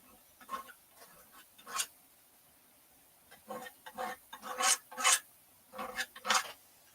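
A palette knife scrapes solvent-free Gamblin oil paint off a canvas in a series of rasping strokes, some single and some in quick clusters, close and fairly quiet with short pauses between.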